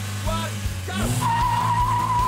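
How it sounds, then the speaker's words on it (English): A Mark 1 VW Golf GTI launches from standstill with wheel spin. The engine revs rise sharply and a tire screech cuts in and holds steady. There is faint voice activity in the background. "Bit of wheel spin."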